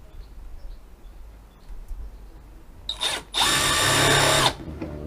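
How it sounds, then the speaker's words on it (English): A power drill countersinking screw holes in decking boards for a window box, a short buzzing spin followed by a steady, louder whine lasting about a second, close up against quiet outdoor background. "we'll just countersink them all now"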